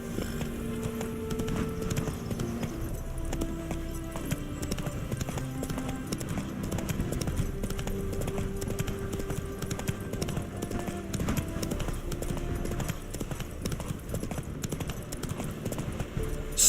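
Roach, Geralt's horse in The Witcher 3 around Novigrad, gallops with a steady rapid clip-clop of hooves throughout, set against a low musical score.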